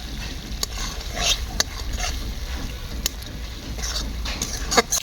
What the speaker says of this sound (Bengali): মশলা থেকে তেল ছেড়ে দিয়েছে, এখন খাসির চর্বিটা দিয়ে দেবো।